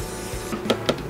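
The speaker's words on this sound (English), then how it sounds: "Now we're just gonna spray our pan." Cooking spray hisses from an aerosol can onto a baking pan for brownies inside an RV kitchen, coming as a few short, close bursts over a low background hum.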